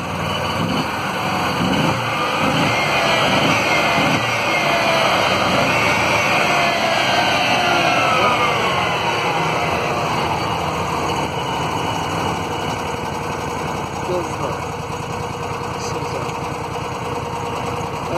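An Argo 6x6 Big Foot ATV engine runs while still cold, a steady close-up drone with a faint rhythmic chug at the start, holding a constant pitch and loudness throughout.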